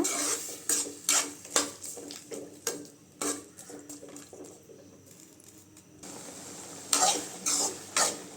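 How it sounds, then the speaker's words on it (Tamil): Chow chow (chayote) kootu stirred in a pot with added water, giving a series of close scraping spoon strokes and soft clinks over a light sizzle, pausing briefly midway. "கொஞ்சம் தண்ணி சேர்த்துக்கோங்க இது நல்லா வேகட்டுங்க காய் நல்லா கிண்டி விட்டுங்க"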